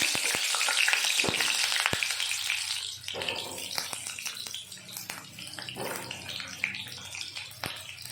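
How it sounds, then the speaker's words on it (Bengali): Potatoes frying in hot oil for chicken biryani, a loud dense sizzle that eases after a few seconds into a lighter crackle with occasional stirring clicks, close by and without speech. "তার জন্য আলুগুলো আমি ভেজে নিচ্ছি।"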